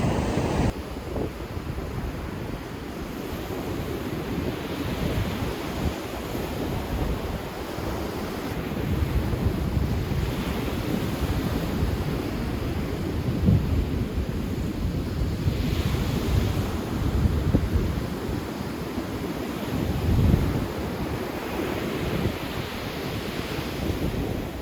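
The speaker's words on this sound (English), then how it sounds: "It's a beautiful beach in Kauai, Hawaii." Ocean surf rolls onto a beach in Kauai, Hawaii, a continuous wash of breaking waves swelling and receding under gusty wind buffeting the microphone, with no voices.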